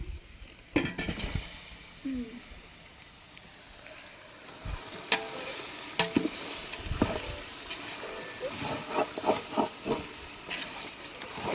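Chicken with masala for a large biryani batch cooks in a pot over a wood fire, giving a hissing sizzle broken by scattered clanks and knocks of utensils against the pot, close by, with no talking.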